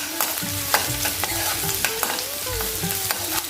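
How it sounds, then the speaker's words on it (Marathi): Garlic pieces and ginger fry in hot oil over a high flame for crispy soya chilli manchurian, a loud steady sizzle with frequent stirring scrapes and taps against the pan, close and without speech. "आता तेल तापलेलं आहे बऱ्यापैकी तर आता सर्वात प्रथम आपण लसणाचे तुकडे घालूया त्यानंतर अद्रक सुद्धा घालणार आहोत"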